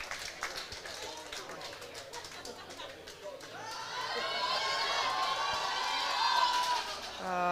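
Crowd at a women's weightlifting competition cheering a lifter, a swelling mass of shouts and whistles that grows louder midway, with a commentator's voice over the start.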